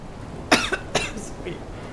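A few sharp coughs in quick succession, close and moderately loud, with a faint murmur of voices between them.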